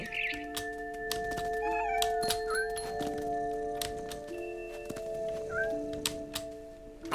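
A cat in the video game What Remains of Edith Finch gives a few short, faint meows over a steady tonal game soundtrack with scattered soft thuds, no talking.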